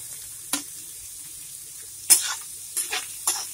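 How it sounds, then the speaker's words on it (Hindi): Onion and ginger fry in a kadhai for Bihari-style kadhai chicken: short bursts of sizzling flare up as the ladle stirs, separated by near-quiet gaps, with four distinct surges and no talking. "और इन सबको हम फ्राई करेंगे 1 मिनट तक।"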